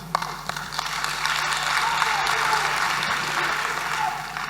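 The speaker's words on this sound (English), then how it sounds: "Now I see the balance between the men and the women clapping." Steady applause from an audience at a Ghanaian political campaign launch, a dense wash of many hands clapping that swells slightly and holds for several seconds without speech.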